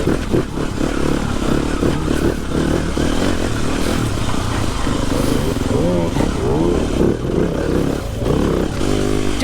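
TM 300 four-stroke motorcycle on a wet track, its engine droning steadily and revving throughout, with people talking over it nearby.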